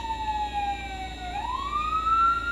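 A police siren wails through the street, its single tone dipping then rising again as the vehicle passes, clear and fairly close over low traffic rumble.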